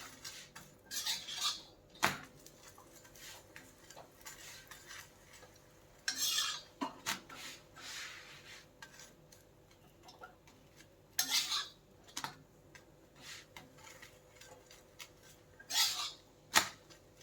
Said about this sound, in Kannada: ಹಾಕ್ಕೊಂಡು ನಾರ್ಮಲ್ ನಾವು ಚಪಾತಿ ಹೆಂಗೆ ಹುರಿತೀವಲ್ಲ ಹಂಗೆ ಹುರ್ಕೊಳ್ಳೋದು